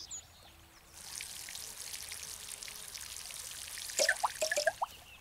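Plants being watered in the video game Garden Simulator: a steady hissing pour of water starts after a second and runs on, with a cluster of bright drip or splash sounds near the end, no speech.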